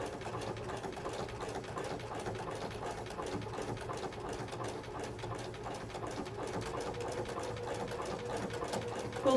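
Sewing machine running steadily while stitching a rope bowl, a continuous mid-pitched mechanical whir with rapid needle rhythm, close and alone at fairly high speed.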